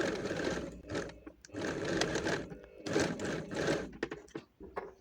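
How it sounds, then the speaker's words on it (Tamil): A sewing machine running a top stitch on fabric, in several bursts of rapid, close mechanical whirring separated by short pauses, with no talking. "ஸோ இதே மாதிரி நான் மேலே வந்து ஒரு டாப் ஸ்டிச் போட்டுக்கிறேன்"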